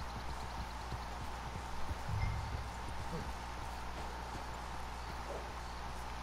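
A horse walks slowly in Red Dead Redemption 2, its hooves making soft, fairly faint clip-clop steps. They sit over a steady outdoor game ambience of rustling and wind.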